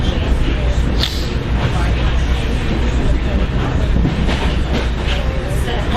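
A New Jersey commuter train runs toward Hoboken past Secaucus Junction without stopping, a loud steady interior rumble with rail clatter throughout, and a voice speaks over it.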